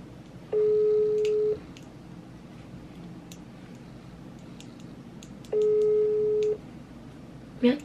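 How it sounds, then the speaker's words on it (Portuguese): Outgoing phone call ringback tone: two long, steady electronic tones about a second each, separated by a pause, clear and alone over faint background noise, with a brief sound at the very end. "vou ligar pra Mariane"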